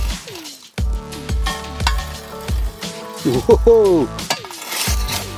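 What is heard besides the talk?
hot coals being put onto a cast iron camp oven lid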